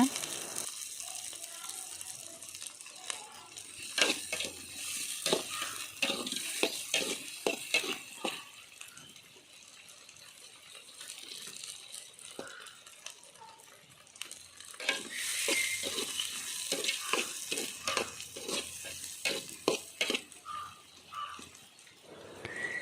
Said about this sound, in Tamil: அடுத்து கருவேப்பிலை சேர்த்து கொஞ்சம் நல்லா வதக்கிக்கோங்க நல்லா ஒரு பொன்னிறமாக வர்ற வரைக்கும் வதக்கிட்டுங்க